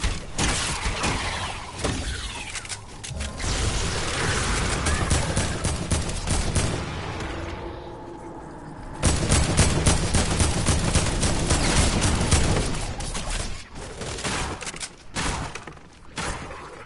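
A minigun in Fortnite fires in long rapid bursts, a dense rattling stream of shots that drops briefly in the middle, then resumes loud and close with scattered impacts.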